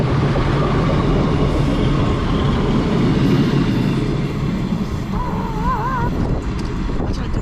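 Delayed train running through Cardiff Central without stopping, a steady loud rumble of wheels and carriages lasting throughout with wind buffeting, and a brief warbling tone near the end.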